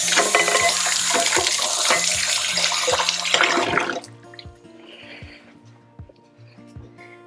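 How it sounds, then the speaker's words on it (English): Water gushes loudly from a kitchen tap as hands are washed, then stops abruptly after about four seconds, leaving faint drips and clinks in the quiet. "I'm going to wash my hands again really fast."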